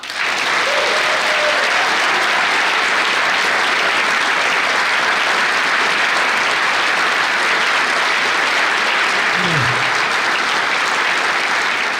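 An audience claps loudly and steadily for about twelve seconds, welcoming author and environmentalist Bill McKibben at a talk on climate change. The applause is dense and continuous throughout.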